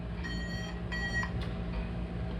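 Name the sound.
Flytec 6010 variometer beeping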